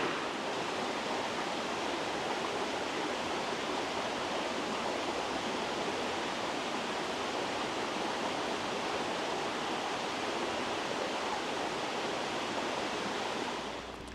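A river flows steadily through a Welsh forest in a continuous broadband rush, close and even, with no voices.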